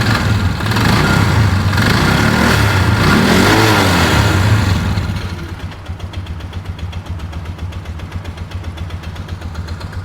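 A Chevy engine fitted in a UTV runs loud and close, revving hard for the first few seconds before dropping back to a steady, rumbling idle.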